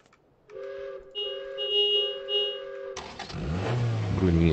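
In PUBG, a car engine hums steadily at first, then switches abruptly to a louder, rougher roar as it accelerates, heard up close and fairly loud with no speech over it.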